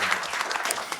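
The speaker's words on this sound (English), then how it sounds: "One more round of applause." An audience claps briefly at a panel at a music and media summit, a short burst of faint, even applause with no voices.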